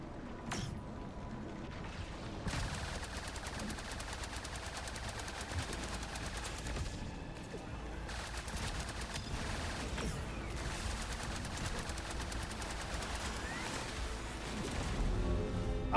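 Rapid gunfire from a Trailmakers video game battle at an enemy encampment, dense and continuous bursts with crashing impacts throughout, steady and fairly loud with no talking.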